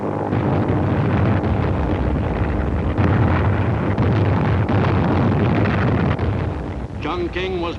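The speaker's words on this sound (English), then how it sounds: "Chongqing was bombed with increasing frequency as the enemy gained ground in China" Bombs burst during a wartime air raid on Chongqing: a loud, continuous roar of blasts and rumbling, with sharper impacts scattered through it, and a brief voice near the end.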